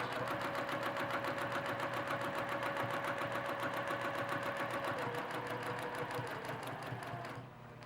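A sewing machine runs a steady, rapid stitching rhythm across fabric, close and continuous, then slows and stops near the end.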